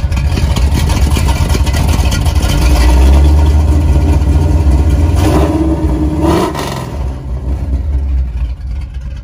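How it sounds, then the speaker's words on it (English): A 1978 Chevrolet-style square body stepside pickup's engine, fitted with a high-volume oil pump, idles loudly up close, then is revved in a couple of rising bursts before settling back to a steady idle. "Here's a little rev."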